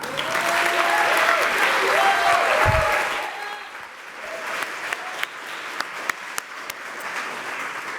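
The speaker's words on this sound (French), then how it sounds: "Une magnifique main d'applaudissements pour Olicaille." Audience applause at a startup venture day in Montréal, a burst of crowd clapping with cheers and a brief musical jingle, thinning into scattered claps that die out.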